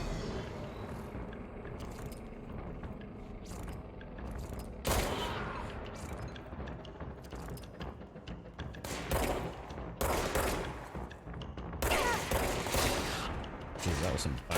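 Gunfire in the video game Control comes in several loud bursts of rapid shots spread across the stretch, separated by quieter ambient rumble and game effects.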